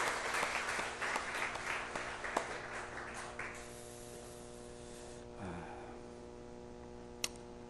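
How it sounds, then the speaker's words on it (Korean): A church congregation at a revival meeting claps loudly and continuously for about four seconds, then the applause fades out, leaving a steady electrical hum and a few faint scattered sounds. "우리의 소망 되신 우리의 기쁨 되신 주님께 영광의 박수를 드리겠습니다."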